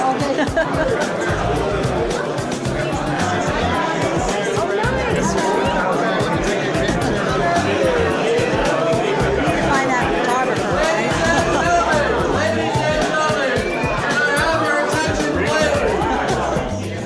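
A crowd at a showtime event fills the space with steady, dense chatter and overlapping voices, a constant babble from many people close by.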